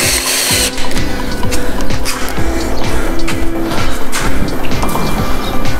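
A power drill drives screws into a PVC window frame, loud whirring with rhythmic bursts and clicks repeating throughout.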